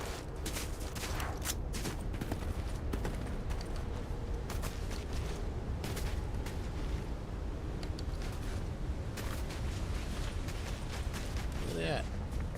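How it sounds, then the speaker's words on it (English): Video game gunfire during an online shooter match with jetpacks: steady crackle of distant and nearby shots and bursts throughout, under continuous excited talk from players. "There's somebody shooting over here"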